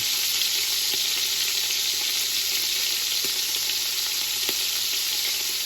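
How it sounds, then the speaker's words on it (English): Sausage sizzles and crackles loudly in a hot pan, a steady frying hiss with occasional sharper pops. "A lot of sizzling going on over here. Sausage is looking good."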